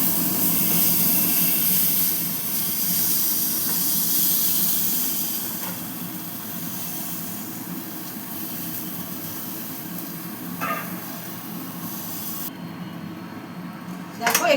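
Singi fish frying in hot oil, a steady broadband sizzle and hiss filling the clip, loud at first and easing slightly, with a couple of faint clicks near the end.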